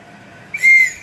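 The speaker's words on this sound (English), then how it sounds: "How do you make a sound with the whistle, Filza?" A whistle is blown once, a short sharp shrill blast rising suddenly and holding for a moment before cutting off, loud and close over a quiet room.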